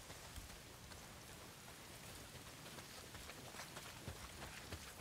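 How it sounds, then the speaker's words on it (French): Heavy rain pours steadily in the Days Gone game world, a dense, even hiss of downpour with scattered louder drops and no voices. "s'il pleut des cordes, frangin"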